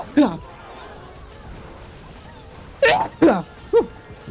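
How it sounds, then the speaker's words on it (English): A man's sneeze during Clash of Clans gameplay, a short burst near the start and then a quick cluster of three sharp bursts close up, with quiet game sounds between. "I'm about to sneeze."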